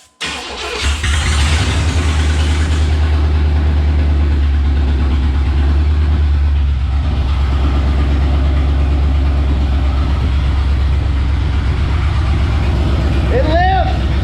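A Chevrolet C/K 1500 Silverado truck engine catches and settles into a loud, steady idle right up close, with a deep, even rumble throughout and voices talking over it.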